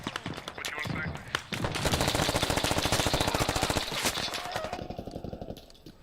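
Rapid machine gun fire from the military shooter game Squad rattles in dense, sustained bursts, loud and close, after a brief stretch of mixed background noise, then tapering into scattered shots.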